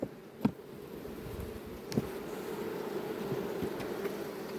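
Honey bees buzz at an open hive, a steady close drone that holds throughout, broken by a couple of sharp knocks or clicks from handling the frames.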